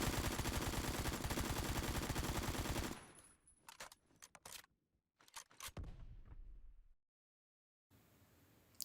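Loud, dense automatic gunfire from the Donger, a cursed AK-type gun fired with its stock folded, sustained at first, then breaking into shorter bursts and isolated shots before dropping to silence.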